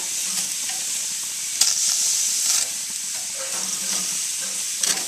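Steak sizzles and hisses in a hot pan, a bright steady frying crackle punctuated by a few sharp stirring scrapes, close and clear with no talk.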